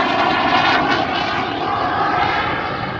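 A BAC Jet Provost jet flies at an air show, a loud continuous roaring whine that holds steady and eases slightly over a few seconds, with no talk.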